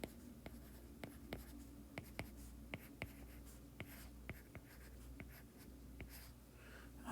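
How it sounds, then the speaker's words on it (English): Pen writing notes by hand during a physics lesson, light scratching with sharp periodic taps and clicks at close range over a quiet steady background, no voices. "So let's go ahead and write that in down here."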